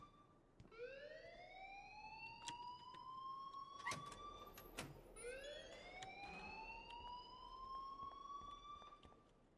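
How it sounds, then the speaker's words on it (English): A school alarm in the video game Life Is Strange wails in rising, siren-like sweeps that start twice and climb in pitch, mixed with scattered clicks and knocks and heard fairly faintly. "please turn off that alarm"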